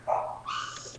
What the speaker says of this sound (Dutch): Dat zijn mijn honden.